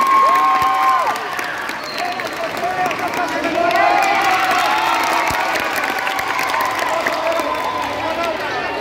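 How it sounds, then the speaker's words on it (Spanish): Crowd applause and cheering for a dance group at a morning event, loud and sustained throughout, with scattered shouts and a voice over a loudspeaker near the start. "el grupo de baile El aplauso para ellos"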